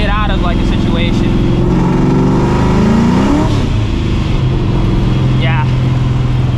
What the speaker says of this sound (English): I'm gonna do a small acceleration because I kind of want to see how it would feel